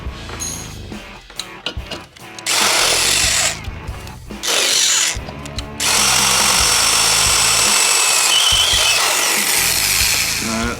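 An old set of drill bits driving a power drill through work on a minibike front fender, loud grinding bursts stopping and starting, then a long sustained drilling run with high squealing.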